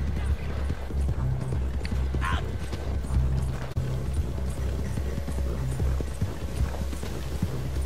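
Horse hooves clip-clop steadily in Red Dead Redemption 2 Online during a legendary bounty mission, running continuously under game music and ambient sound, with occasional voice chatter.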